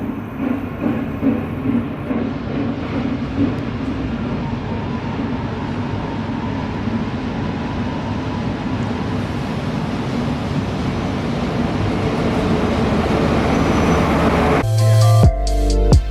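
A freight train rumbles steadily nearby, a low continuous roar of rolling wagons that grows slightly louder before a sharp clank at the end.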